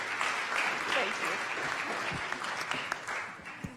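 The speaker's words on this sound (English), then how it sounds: "So now let's give another round of applause for Angela and her presentation." Audience applause after a presentation at a government event, a steady dense wash of many hands clapping that holds throughout with a few sharper individual claps standing out near the end.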